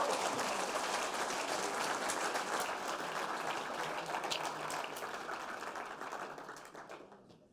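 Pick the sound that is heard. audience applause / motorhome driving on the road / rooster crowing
audience applause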